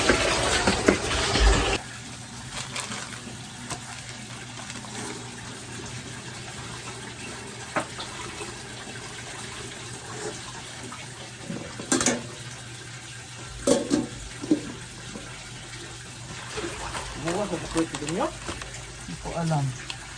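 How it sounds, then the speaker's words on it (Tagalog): Tap water runs into a cooking pot to boil spaghetti in a home kitchen, a steady splashing stream under intermittent talk, with clatters and a louder start. "Nagkaroon ako ng tubig para sa spaghetti."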